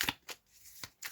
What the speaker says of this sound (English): Just going to give it a quick shuffle.